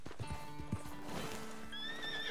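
A horse in the video game Red Dead Redemption 2 clip-clops with a few hoof thuds, then lets out a loud rising whinny, set against a faint game background.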